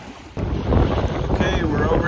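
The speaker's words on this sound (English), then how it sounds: "It's very windy out here." Strong wind buffeting a microphone outdoors at Enterprise Reservoir in southern Utah, a sudden rumbling gust kicking in after a quieter start and roaring on steadily, with faint background sound of water.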